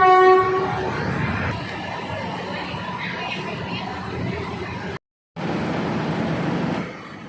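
A Thai express diesel railcar, train no. 40, pulls away with a loud horn blast at the start, followed by a steady, close rumble of the railcar rolling off.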